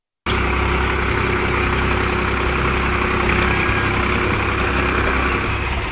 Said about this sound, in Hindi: नहीं तो एक बार फिर गौर से इस ट्रैक्टर को देखिए। जी हाँ, ये जुगाड़ है।